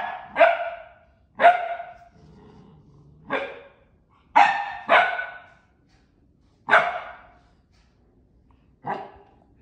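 Dog barking in sharp, separate bursts at its own reflected picture, about seven loud barks spaced irregularly across the stretch, near and clear with quiet gaps between.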